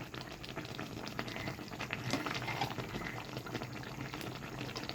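Taro greens with rohu fish simmer in a pot, a steady close bubbling and soft liquid patter running evenly throughout with no voices.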